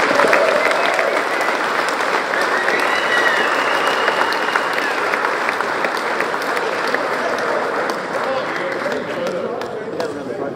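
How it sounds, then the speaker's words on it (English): Audience at a 24 Hours of Lemons racing awards ceremony giving a long, steady round of applause, dense clapping that fades slightly toward the end. "So can we give a huge round of applause, please?"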